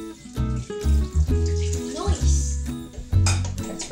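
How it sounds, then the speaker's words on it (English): Chicken adobo marinade is poured onto raw chicken, a soft liquid pour heard under someone talking throughout. "So now I'm gonna pour this into my chicken."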